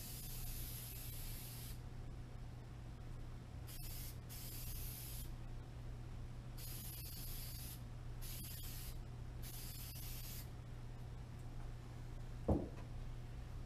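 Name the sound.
spray glue being applied to pool table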